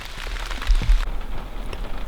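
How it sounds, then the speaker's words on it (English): Steady rain pours outdoors during a spring fishing and foraging outing, a loud dense hiss of drops drumming on surfaces with a couple of low thumps, with no one talking. "it started to rain a little bit harder"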